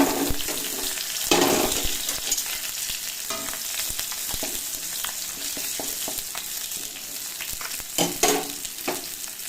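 Garlic and green chilies hit hot oil in a pan, giving a steady close sizzle with a few louder bursts of spatter and stirring.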